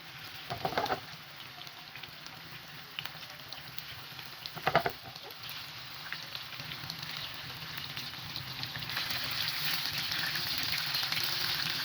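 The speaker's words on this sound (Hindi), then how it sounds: "अब मैं इनको फ्राई करती हूँ। ऑयल डालती हूँ।" Chicken gola kababs fry in hot oil, giving a steady crackling hiss that grows fuller toward the end, broken early by a couple of brief utensil clatters, with no voices.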